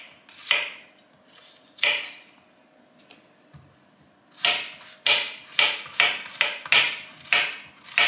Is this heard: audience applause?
no